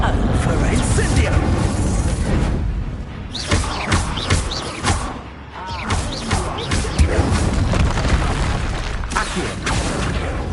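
Incendio fire spell bursts in the Hogwarts Legacy video game, heavy booming blasts and crashes recurring through dense, loud combat noise, with a voice talking over the action.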